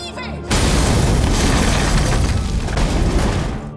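Film bomb blast going off near a shop, a sudden loud broadband boom that rolls on as a dense sustained roar and rumble for several seconds.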